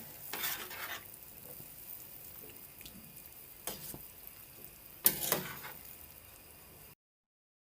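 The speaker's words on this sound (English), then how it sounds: "Giving it a stir." A spoon scrapes and stirs through a pot of stewed chicken with ketchup in a few short bursts, with a soft sizzle and bubbling underneath, close and moderately quiet, no voices.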